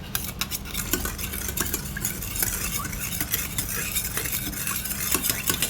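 Rice noodle mixture with fish sauce stirred in a bowl, a continuous close scraping and clinking of utensil against the dish with a wet, sizzly texture and steady rhythm throughout.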